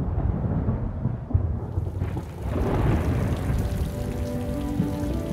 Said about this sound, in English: storm clouds are massing.